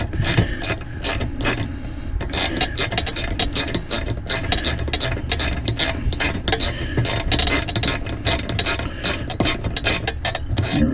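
Ratchet wrench tightening a 5/16 bolt on a C5 Corvette steering wheel lock-out module, a steady rapid clicking of the pawl over about eleven seconds, close and fairly loud, with no speech.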